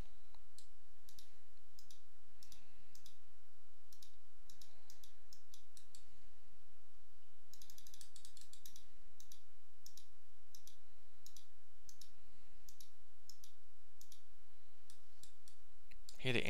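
F-14 jet engine ticking as it winds down after shutdown in Microsoft Flight Simulator, a steady run of faint, irregular metallic clicks over a low quiet hum, with a brief denser burst partway through.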